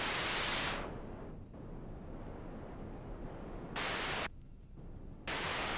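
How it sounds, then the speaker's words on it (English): Loud broadband pink noise from a modular synth, modulated, swells and drops away, then cuts in and out in abrupt blocks, a steady synthesized noise with no voices. "So I'm modulating with the crush. I'm modulating the pink noise."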